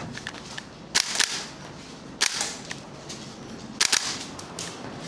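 An airsoft MWS MCX rifle fires in short sharp bursts, a few quick snapping shots clustered together at intervals, close and crisp outdoors over low background noise.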